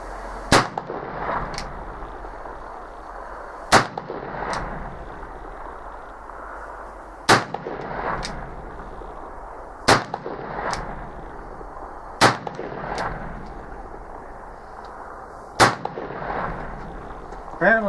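Sharp gunshots from an 1862 Pietta Colt 44 black powder revolver fired outdoors, six loud cracks spaced a few seconds apart, each with a short echoing tail and faint background noise between shots.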